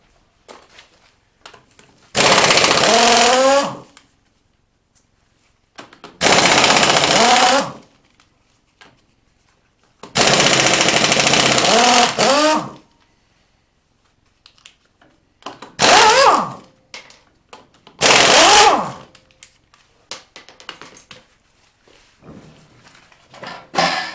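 A power tool works on hotrod truck wheels, firing five loud, whining bursts of one to two seconds each, separated by short gaps of near silence.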